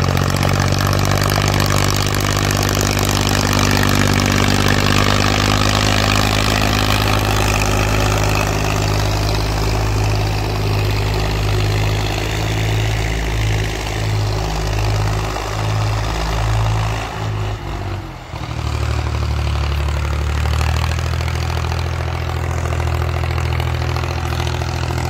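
A 2006 Powertrac 445 tractor pulling an 18-disc harrow runs steadily with a low, throbbing diesel drone, its pitch shifting briefly around the middle before settling back into a constant, close-up chug.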